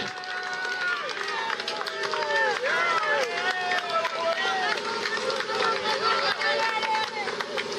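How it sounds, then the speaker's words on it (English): A roadside crowd cheers and shouts along a cycling race climb on Alpe d'Huez. The noise is loud and continuous, with layered voices, whistles and some clapping. "Listen to the crowd"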